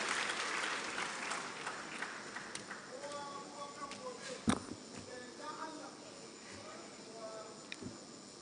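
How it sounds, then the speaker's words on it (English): An audience at the KADINVEST 7.0 investment summit applauds to welcome Senator Uba Sani, giving steady, moderately distant clapping from a large hall with a few sharper individual claps and faint voices mixed in. "the applause that is already coming"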